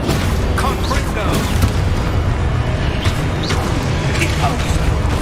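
A Confringo fire blast spell in Hogwarts Legacy bursts with a booming crackle amid dense, noisy magical combat, loud and continuous, as a player calls out spell names.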